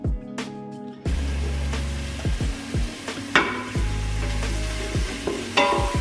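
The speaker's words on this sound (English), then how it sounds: "We're going to chuck in our onion after we've thrown in the garlic." Onion and garlic hit hot oil in a pan and sizzle loudly and steadily, with a stirring utensil scraping and clacking against the pan several times.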